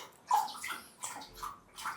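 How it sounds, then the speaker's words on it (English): A dog lapping water in quick, uneven bursts of wet splashy slurps, close and fairly loud, separated by brief pauses, with no talking. "one of the dogs is drinking water"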